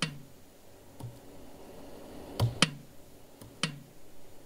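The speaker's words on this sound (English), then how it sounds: "if you tap it, you'll hear that horrible clicking sound" Sharp taps on an Arduino-built musical instrument set off harsh clicks through a Microsoft wavetable synthesizer, four or five separate clicks spaced irregularly over a quiet background, the loudest pair close together near the middle.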